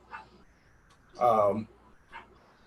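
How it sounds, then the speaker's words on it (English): A dog gives one short, loud bark close by, with a fainter yelp or whimper just before and after, set against quiet room tone during a conversation. "sorry about the dog barking if you can hear that."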